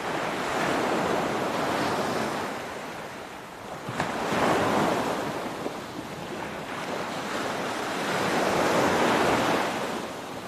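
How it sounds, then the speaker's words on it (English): Ocean surf rolls in steady, broad washes of noise that swell and recede every few seconds, close and continuous with some wind, and no voices. "Enjoy the sound of the waves, which have an additional soothing, calming effect."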